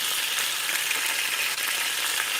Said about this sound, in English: saute these up a little bit